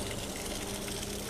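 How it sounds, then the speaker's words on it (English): Water gushes steadily from a natural pipe on a hiking trail up Tai Mo Shan in Hong Kong, a constant rushing flow filling the scene with no voices. "natural pipe water"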